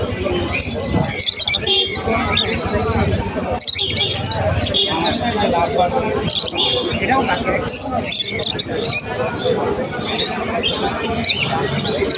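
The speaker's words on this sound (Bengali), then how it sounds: "এখানে দেখতে পারতেছি অনেকগুলো কোয়েল পাখি আছে" Dense, overlapping chirps and tweets from many caged quail, steady and loud throughout, with people talking nearby in a busy bird market in Mirpur.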